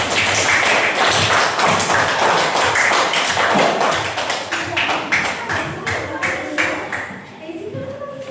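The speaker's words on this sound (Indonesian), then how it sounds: "tepuk tangan untuk kita semuanya" A class claps together in a lively burst of applause, sharp hand claps gradually thinning out and fading, with voices mixed in among them.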